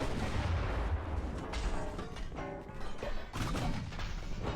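Massed warship guns firing in the naval game Ultimate Admiral Dreadnoughts, a dense, continuous rumble of overlapping heavy booms and blasts that stays loud throughout with no pause.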